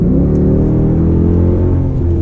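Custom Jeep Grand Cherokee Limited under throttle, a steady loud low engine rumble with a rising whir of acceleration heard from inside the cabin, no talking.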